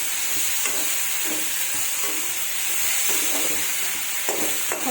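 Rice and potato pieces frying in a pan with turmeric and salt, a steady close sizzle under repeated scraping stirs of a spoon, with no talk.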